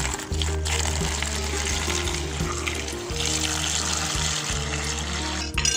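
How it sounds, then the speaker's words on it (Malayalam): Water poured from a tap into a bowl holding peeled green bananas, a steady close splashing stream with a few brief breaks and a low hollow filling tone. "ഇനി ആ കായ മുങ്ങി നിൽക്കുന്ന രീതിയിൽ വെള്ളം ഒഴിച്ചു കൊടുക്കാം."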